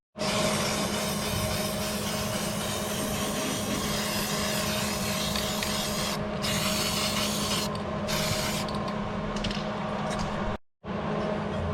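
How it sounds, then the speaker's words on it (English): An angle grinder with no guard or handle runs steadily on a steel frame, giving a loud, continuous abrasive whine with a few brief dips and a short cutoff near the end. "Hate running a grinder without a guard or without a handle on it."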